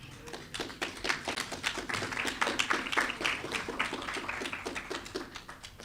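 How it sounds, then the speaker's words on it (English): An audience applauds a speaker at a productivity awareness week launch, dense, brisk hand clapping that swells and then slowly thins out over several seconds. "A bigger round of applause for Betty."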